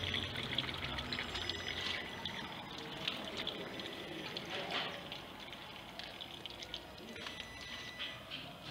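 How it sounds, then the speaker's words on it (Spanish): Excess hydraulic oil drains from a VDS hydraulic arm in a thin, steady trickle, faint against workshop background, with brief voices nearby. "ahí está botando el excedente de aceite"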